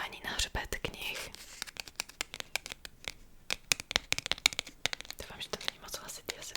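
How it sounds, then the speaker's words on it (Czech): Fingertips tap on the spines of books in rapid, irregular clusters of close, crisp knocks, with soft whispering woven between them. "Já mám hrozně ráda právě ťukání na hřbet knih."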